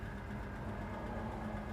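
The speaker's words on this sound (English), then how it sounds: "my foot's not on the throttle. Idle's real nice." The big block V8 engine of a 1967 Chevrolet Chevelle SS idles steadily up close, a smooth, even low rumble with a faint hum and no other sounds.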